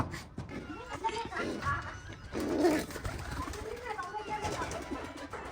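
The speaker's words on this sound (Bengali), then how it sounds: "আরেকটা কবুতর রইছে" Pigeons coo softly inside a coop housing nesting birds and chicks, their low murmuring calls mixed with shuffling and rustling while people talk nearby throughout.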